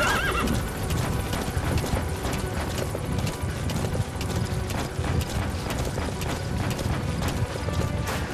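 A horse gallops in the video game Metal Gear Solid 5, rapid rhythmic hoofbeats continuing steadily and close, with a brief whinny at the start and faint mechanical clicking in the background.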